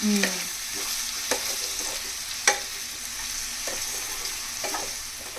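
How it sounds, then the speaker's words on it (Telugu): Bottle gourd curry is stirred in a pan over a steady frying sizzle, with a spoon scraping the pan in several distinct strokes, close and moderately loud, with no voices. "ఈ మొత్తం ఒకసారి మిక్స్ అయ్యే విధంగా కలుపుకొని మూత పెట్టుకొని మగ్గించుకుందాము."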